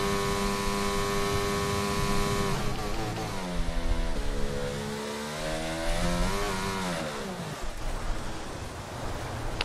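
Formula 1 car engine screaming through a flying qualifying lap in the F1 22 video game at the Spain circuit, continuous and loud, with the pitch sweeping down under braking and back up through gearshifts.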